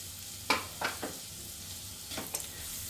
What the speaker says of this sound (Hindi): 2 प्याज डाल रही हूँ, चॉप्ड, पतले पतले काट लिया है।